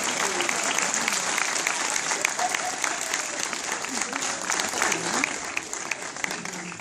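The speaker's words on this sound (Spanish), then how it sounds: "vamos, arriba, más fuerte el aplauso." Sustained applause from a Star Wars fan convention audience, thick and even clapping from many people holding at a strong level throughout, with faint voices underneath.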